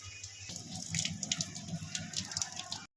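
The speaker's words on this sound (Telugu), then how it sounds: "ఇట్లా చల్లనీళ్ళు పోసి రెండు మూడు సార్లు కడుక్కోవాలి" Cold water poured from a tap over boiled ice-apple (palm fruit) peels in a sink to rinse them, a steady close splashing and trickling stream that starts after a brief pause and runs on evenly without talk.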